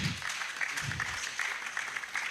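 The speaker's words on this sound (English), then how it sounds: "shall we give an ovation and a round of applause for" Audience at an international engineering and technology conference applauds after a paper presentation, a steady, moderately loud wash of clapping that holds evenly throughout with no voices on top.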